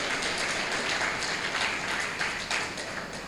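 Audience at a spiritual talk on marriage by Pandit Vijay Shankar Mehta claps in sustained, dense applause that holds steady and fairly loud for a few seconds.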